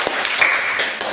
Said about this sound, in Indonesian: Kami persilakan untuk kelompok 2 untuk berbagi tepuk tangan untuk semuanya.